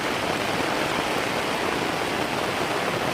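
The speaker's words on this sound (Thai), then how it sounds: "ฝนกำลังลงเต็มที่เลยครับ" Heavy rain pours onto a floorless tent during a storm: a dense, steady, even roar of drumming water that stays loud and close throughout, with no gaps or voices.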